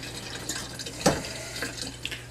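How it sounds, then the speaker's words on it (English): Filtered water runs from a kitchen tap into a container for brownie batter, a steady close splashing stream with a brief louder gush partway through. "There's the water."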